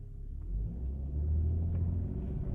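A 2011 Honda Pilot with a 3.5L engine accelerating after repair of lean-condition faults, a steady low engine rumble rising slightly in intensity, heard from inside the vehicle.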